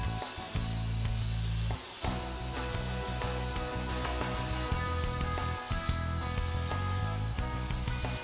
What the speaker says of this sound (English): It's a pressurized fan spray, and it provides a consistent spray throughout the PhotoMask.